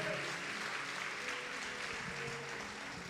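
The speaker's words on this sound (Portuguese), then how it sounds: "Pode aplaudir o Senhor com alegria." Soft, continuous applause from a church congregation during a service, a dense diffuse wash of clapping heard at a distance and fairly faint, with no distinct individual claps.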